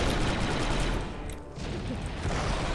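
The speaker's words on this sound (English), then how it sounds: "These fucking disruptor rifle things." Disruptor rifle fire in Star Wars: Republic Commando, a loud, continuous roar of blasting with a brief dip midway, dense and close throughout.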